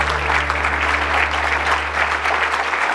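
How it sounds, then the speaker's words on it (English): A church audience claps steadily for a speaker, a continuous dense patter of hands over a low steady hum in the room. "Well, I think they're clapping for me."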